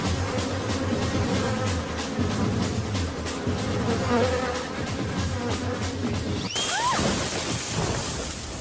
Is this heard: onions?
no